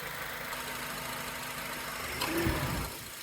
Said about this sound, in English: there is the compressor clutch engaging for the first time